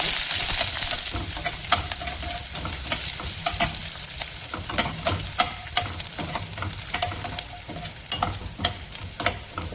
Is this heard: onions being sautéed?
yes